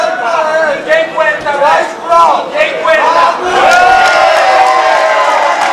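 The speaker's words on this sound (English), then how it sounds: "the Cicero Costha fans in the crowd celebrating that guard pass" A crowd of fans cheering at a grappling match, loud rising whoops and shouts from many voices blending into a sustained roar, close and energetic.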